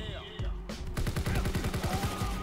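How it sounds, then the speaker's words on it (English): Rapid bursts of gunfire in the video game Call of Duty WWII, a rattling automatic volley following a single sharp shot, loud and close with a voice over the start. "did you see all those bullets miss?"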